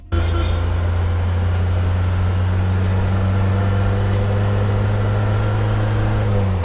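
Horn of a restored Mercedes 240GD, a loud steady blare held for the whole stretch with a strong low hum, sounding right up close and alone with no talking.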